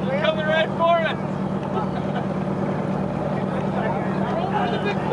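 A motorboat engine runs steadily as a loud, continuous hum out on open water in Brooklyn, New York, with excited voices shouting over it near the start.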